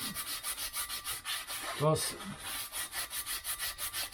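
Hand sanding on a Lexus RX400h brake disc in a garage: steady rhythmic back-and-forth rubbing strokes, close and regular, with a brief voice breaking in midway.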